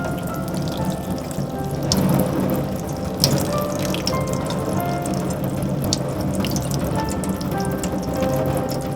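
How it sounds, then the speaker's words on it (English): Water runs steadily and close up while a potted Nepenthes pitcher plant, freshly set in Kanuma soil, is watered until the water draining from the pot comes out clear, a continuous splashing flow with faint drips and clinks. "Water until the water coming out of the flower pot is clear."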